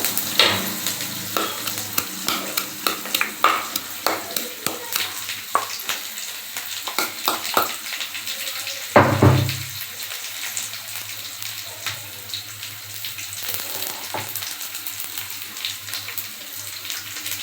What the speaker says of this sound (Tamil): வெங்காயம் பச்சை மிளகாயும் நல்லா வணங்கணும்.